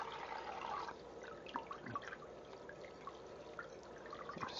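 A salmon fillet is rinsed under running water from a tap, giving a faint, continuous trickle and splash with small drips, quiet and steady throughout.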